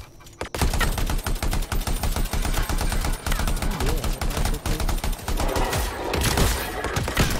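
Rapid automatic gunfire from the Anthem video game, a loud, dense burst of fast repeated shots running almost continuously for several seconds after a brief quiet start.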